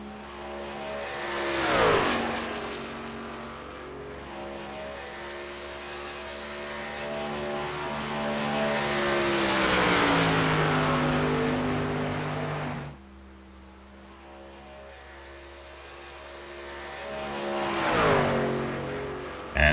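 Sim racing game cars circling a racetrack during a club race: steady droning engine tones that rise and fall in pitch as cars pass, with a couple of louder close passes, no talk.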